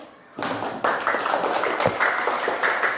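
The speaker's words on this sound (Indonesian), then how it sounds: "Aplaus dulu." A classroom of students claps in sustained applause that starts abruptly after a moment of near silence, steady and fairly close throughout.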